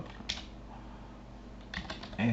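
Numbers are typed into Excel on a computer keyboard, with scattered soft key clicks at close range and a louder burst of keystrokes near the end.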